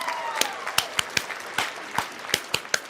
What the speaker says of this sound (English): We need a soul clap.